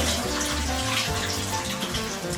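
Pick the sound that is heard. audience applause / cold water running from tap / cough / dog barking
cold water running from tap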